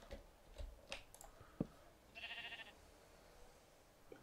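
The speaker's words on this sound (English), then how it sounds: "That's a sheep." A Minecraft sheep gives a short, faint bleat in the game, alongside scattered soft clicks and taps of game sounds, with no talk.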